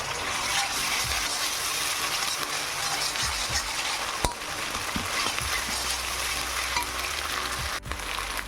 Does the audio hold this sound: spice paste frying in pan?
yes